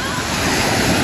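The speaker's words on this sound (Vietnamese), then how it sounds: "Và một cơn sóng lên là xong đó." Ocean waves break on Thuận An beach near Huế, a loud, continuous roar of surf with wind rushing across the microphone.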